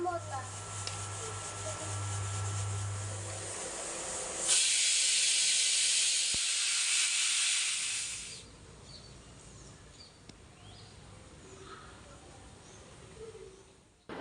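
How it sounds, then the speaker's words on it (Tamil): A pressure cooker cooking rice lets out a loud, sustained hissing whistle of steam for several seconds, then it fades into quieter kitchen background noise. "ரசம் சாப்பாடு இப்போ விசிலில் நல்லா போயிடுச்சு"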